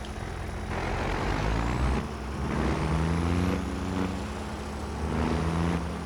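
In Farming Simulator 25, a truck's engine drones at a steady low pitch, rising and settling in waves, with repeated sharp hissing bursts of air brakes between them.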